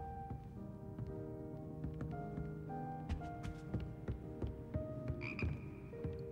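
Frogs in the frog room of Hogwarts Legacy keep up overlapping croaks and tonal chirps at varied pitches, a busy layered chorus over a soft low murmur.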